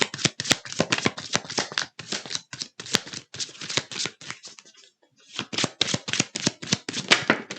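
A deck of tarot cards is shuffled by hand in rapid, crisp bursts of riffling and snapping, close and fairly quiet, with a brief pause midway before the shuffling resumes.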